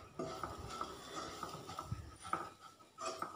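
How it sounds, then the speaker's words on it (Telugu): A spoon clinks and scrapes against a pot while chili powder is stirred into a dish, in quiet, irregular taps and strokes, close by, with no talking. "ఇప్పుడు 2 స్పూన్ల కారం వేసుకొని బాగా కలుపుకుందాం."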